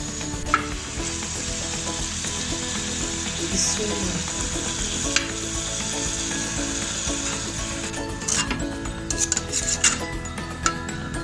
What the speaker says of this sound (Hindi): सारे पीसेस इस तरह रख के इनको अच्छी तरह फ्राई कर लेना।